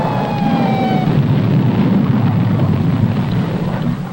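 Detonation of the ordinary explosive in a nuclear weapon, heard as a loud, sustained rumbling roar that stays strong through the whole stretch, with a faint high whine fading early and no talk.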